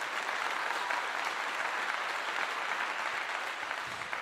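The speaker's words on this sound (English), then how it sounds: "They deserve another clap." Steady, dense applause from a crowd at a Colorado Buffs post-game event after a big win over Arizona, filling the whole stretch at an even level without a break.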